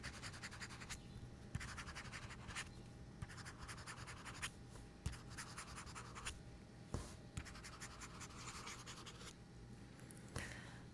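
A Remarkable pen nib scratches across the screen of a Remarkable 2 tablet in repeated short writing strokes with small pauses between them. The sound is quiet, close and dry, with no talking.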